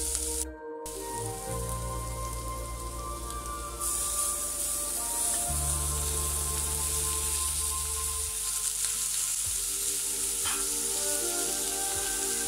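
Tomato frying with sautéed onions in a pan for a Kottayam-style sardine curry; a steady close sizzle and hiss persists throughout, with a low hum in the background and no speech.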